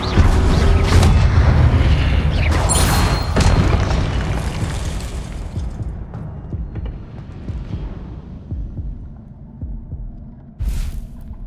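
A Confringo blasting spell explodes in Hogwarts Legacy, giving a loud, deep booming blast that rumbles and slowly fades over several seconds, followed by a shorter thump near the end.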